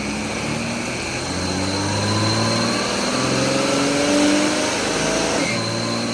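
A 347 Ford stroker engine with an AOD transmission runs steadily in first gear, a loud, close, continuous mechanical drone with whining tones that rise and fall slightly.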